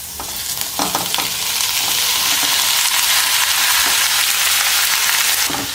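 Tomato pieces fry with onions in a pan for a soup, giving a steady loud sizzle with occasional stirring scrapes and no talking.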